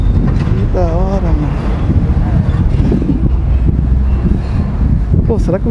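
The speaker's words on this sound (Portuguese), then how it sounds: "Tá ventando muito." Loud, constant wind buffeting the microphone in Jurerê Internacional, Santa Catarina, Brazil, a rough low roar throughout with some voices faintly under it.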